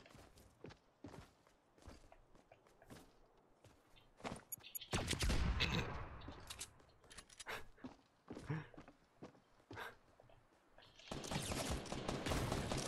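Bursts of enemy submachine gun fire in Fortnite crackle among quick footsteps, with louder sustained volleys in the middle and at the end.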